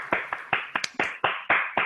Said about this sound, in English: give him an opening round of applause